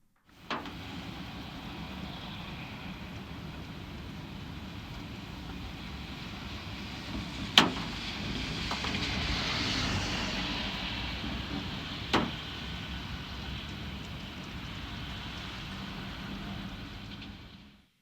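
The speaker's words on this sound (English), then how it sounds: "You can hear a couple cars go by." Cars swish past outside on a rainy day, heard from inside a parked car: a steady hiss of rain with a broad swell as a vehicle passes mid-way and a couple of faint knocks.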